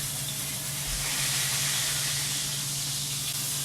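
A burger patty sizzles loudly and steadily in a pan after flipping, a constant close hiss of spitting fat with no pauses and no voices over it.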